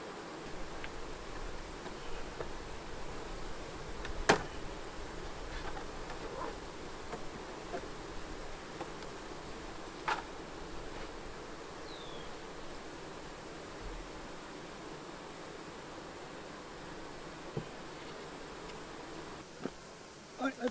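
Bees buzz around backyard beehives outdoors, a low steady hum under broad ambient noise, with a few sharp ticks and knocks scattered through.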